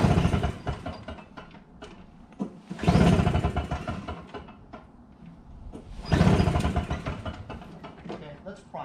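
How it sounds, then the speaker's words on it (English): A Troy-Bilt TB22 weed trimmer engine is pull-started twice, each slow tug of the recoil cord giving a short rising rattle of compression that fades without the engine catching. "I'll pull it a couple of slow times just to get some primer."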